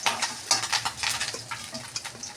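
Fish heads frying in hot oil in a wok, a steady close sizzle with crackling bursts and light scraping as pieces are lifted out.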